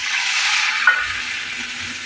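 Onion paste frying in a pan, a steady close hiss of sizzling oil with one brief clink partway through and no talking.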